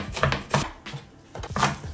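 A knife chops green onions and fresh herbs such as mint on a board, in quick bursts of sharp, close taps with short pauses between groups.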